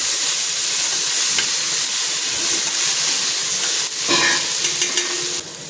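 Steady, loud sizzling of ginger, garlic and chilli paste frying in hot oil, with occasional stirring scrapes and a brief louder burst near the end.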